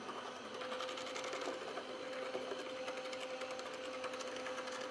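A stand mixer fitted with a dough hook works a thickening dough, its motor giving a steady, continuous whir at even loudness for the whole stretch, with no talking.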